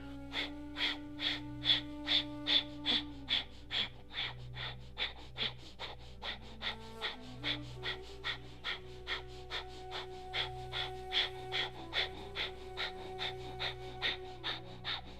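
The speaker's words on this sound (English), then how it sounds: "you're going to start breath of fire." Breath of fire yoga breathing: steady rapid rhythmic nasal exhalations, about two per second, fairly faint and close, running continuously over a soft sustained musical drone.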